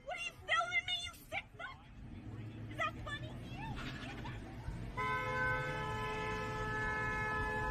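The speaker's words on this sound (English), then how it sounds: "honking that horn, coming in hot" A car horn blares from a video being played, a steady sustained honk over the last few seconds, preceded by a voice and assorted vehicle noise.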